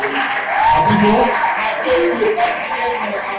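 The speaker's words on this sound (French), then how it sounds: "Continuez les applaudissements sur vous." Applause from an audience at an event on girls in science and technical fields, steady and fairly loud across the room as people are called up to the stage, with voices mixed in.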